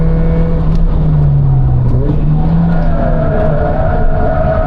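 A race car, recorded at close range, accelerates on a circuit. The loud engine rises and falls in pitch as it revs through the gears, and a second, fainter engine note sweeps underneath it. No one speaks.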